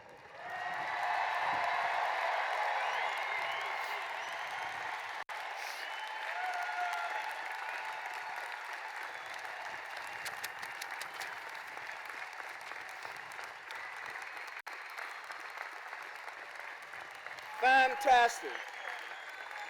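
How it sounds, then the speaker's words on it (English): A large stadium crowd applauds graduates at the University of Illinois Urbana-Champaign 2024 commencement, a dense, sustained roar of clapping that slowly thins, with a voice speaking briefly near the end. "please stand up and join me in a round of applause for our guest of honor today"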